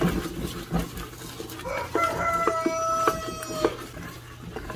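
A rooster crows once in a drawn-out call at moderate distance. Kitchen clatter and background noise surround the crow.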